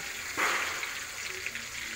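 A sudden burst of sizzling as washed raisins hit hot oil in a kadhai, then a softer crackle that settles into a quiet hiss.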